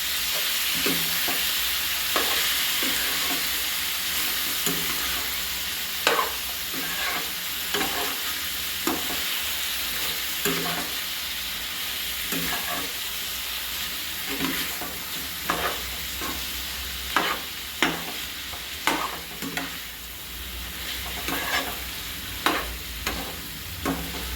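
Garlic and coriander paste sautés for sukka chicken fry, a loud continuous sizzle and hiss with regular scraping stirs of a spatula against the pan, close and without speech.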